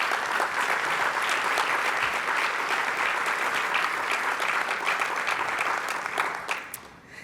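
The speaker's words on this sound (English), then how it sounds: "A big round of applause for them as well." Sustained audience applause at a Federal Reserve Board closing-remarks event, dense steady clapping from a crowd filling the room for about six seconds before tapering off at the end.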